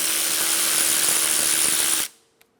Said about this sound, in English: Remove the 12mm bolt for the e-brake bracket